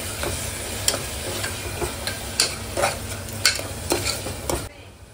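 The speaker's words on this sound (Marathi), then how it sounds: "2 टेबलस्पून दही मिक्स करायचं" A spoon stirs yogurt into spice masala for mutton biryani, giving irregular close scrapes and sharp taps against the pot with no talking.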